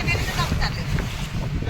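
Water waves wash and splash continuously, a broad rushing surge mixed with wind buffeting the microphone, with faint voices in the background.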